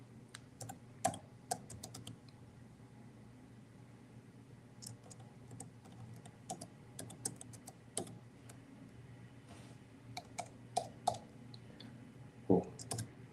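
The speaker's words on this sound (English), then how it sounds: "I'm typing out the email." Quiet keyboard typing in irregular bursts of clicks, close up, with pauses between runs of keystrokes and no talking.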